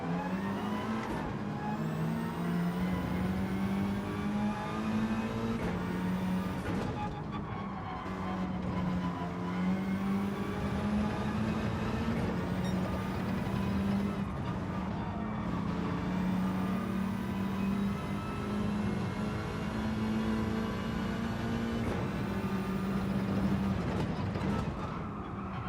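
A Scirocco race car's engine drones at high revs through a Gran Turismo 7 lap, a loud, steady whine with a few dips and climbs at gear changes and faint rival cars around it.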